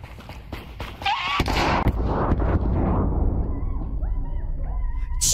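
Gunshots in a multiplayer video game: a few sharp reports and bangs fire early, then a sustained rumbling roar of game sounds continues, with faint tonal chirps near the end.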